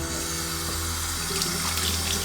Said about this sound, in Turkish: Gerçekten ben bir elimi yüzümü yıkayayım ya